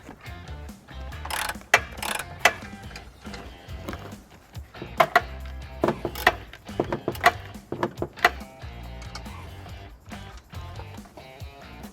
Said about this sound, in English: Now with the canister lowered, we're going to be removing two bolts.